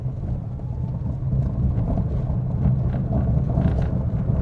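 A DFSK Seres E1 electric car accelerates on a paved-block road, heard from inside as a steady low rumble with road and wind noise building slightly, loud and continuous with no speech.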